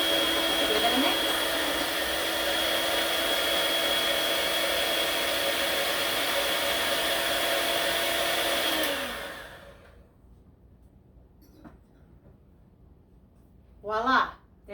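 An electric mixer runs with a loud, steady whir for about nine seconds, blending a basic vanilla ice cream base made with goat milk, then winds down and stops. Brief speech follows near the end.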